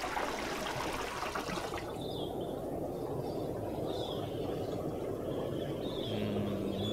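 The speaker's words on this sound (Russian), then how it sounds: "Водопады." Waterfalls in the video game Sprout, a continuous rushing wash of falling water at moderate level, steady throughout with faint higher tones drifting over it.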